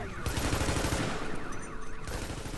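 Rapid automatic gunfire from a shooter video game, The Division, as dense bursts of close, loud shots crackle almost continuously with brief gaps.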